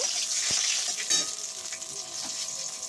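Food frying in a pan for mutton kasha is stirred with a spatula. A constant close sizzle runs throughout, broken by a few sharp scraping knocks from the stirring, and no one speaks.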